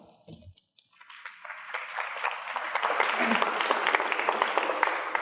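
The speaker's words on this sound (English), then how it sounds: "Please give her a warm round of applause." An audience applauds a guest speaker at a talk on steampunk science and history, the clapping swelling from a brief voice into a steady, dense wash of many hands that keeps building to the end.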